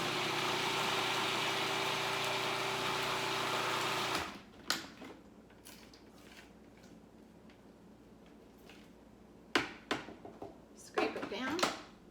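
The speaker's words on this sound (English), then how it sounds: "I'm just going to blend this up." A kitchen blender whirs loudly and steadily for about four seconds, whipping garlic powder, salt, oregano and other spices into a spread, then cuts off, leaving quiet scraping and light clatter.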